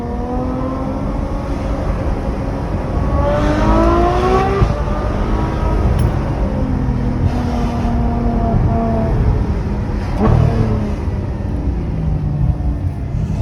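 A Ferrari F12 Berlinetta in fully manual mode pulls hard on an open road, its engine note climbing through repeated rising sweeps with gear changes, loud and close from inside the car, no talking.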